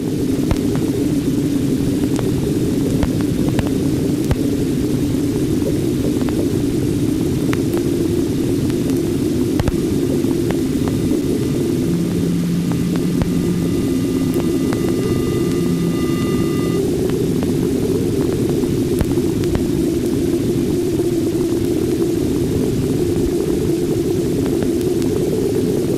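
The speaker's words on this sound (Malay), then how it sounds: "kita boleh mendengar data gelombang plasma yang dirakam oleh satu-satunya kapal angkasa yang pernah melawat Neptune, iaitu Voyager 2" Plasma wave data recorded by Voyager 2 at Neptune, played back as sound: a steady loud hiss and low rumbling roar with faint rising whistling tones near the middle, continuous and without speech.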